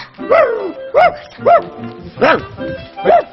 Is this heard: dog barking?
yes